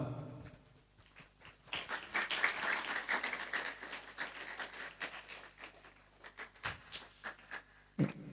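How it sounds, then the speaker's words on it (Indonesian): Audience of students clapping at a school Ramadan boarding program, a dense patter of hands building then tapering over several seconds, with a sharp burst near the end. "Mari kita berikan aplaus untuk kita semua."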